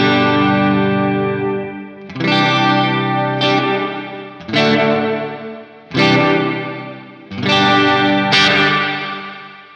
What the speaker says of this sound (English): So this is the room reverb.